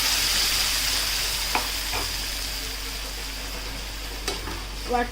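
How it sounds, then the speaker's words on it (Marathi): Chopped onion frying in a pan as green masala paste for green chicken is stirred in, giving a steady, close sizzle with a few sharp utensil clinks against the pan. "आता आपण जे वाटण केलं होतं ते वाटण यामध्ये मिक्स करून घेणार आहोत"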